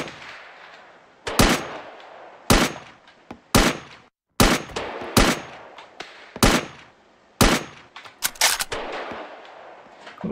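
Gunshots ring out in a VR shooting game, fired as loud, sharp single shots in an irregular series of about eight. Each crack stands out close and alone, with brief gaps between them.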